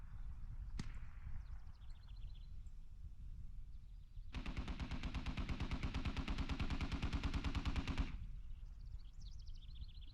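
A long, rapid automatic-weapon burst of about four seconds rings out in a military video game match, with a single sharp shot earlier and quieter distant battlefield sounds before and after.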